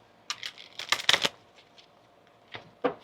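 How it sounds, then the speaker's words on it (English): A Kipper card deck being shuffled by hand, with quick riffling bursts clustered near the start and two more short shuffles toward the end, close and clear. "I was shuffling the Kipper deck and it went flying out of my hand."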